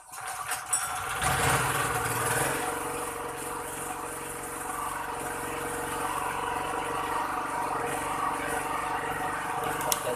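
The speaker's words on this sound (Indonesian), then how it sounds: "genset sudah kita hidupkan" A small 2 kVA, 2000-watt petrol genset runs steadily after a brief start-up surge, giving a continuous loud engine drone with whirring hum throughout, no talking.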